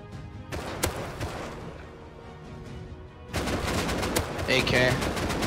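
Automatic AK rifle fire in the Rust video game, sharp cracks at first, then sustained rapid bursts that grow louder and denser toward the end, with faint voices underneath.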